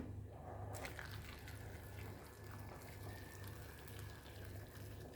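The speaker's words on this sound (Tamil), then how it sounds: "தேவையான அளவு தண்ணி விட்டு அடுப்பில் வைக்க போகிறோம்" Water streams steadily into a cooking pot for boiling cassava in a home kitchen, a continuous low gush and splash with a faint background hum and no talk.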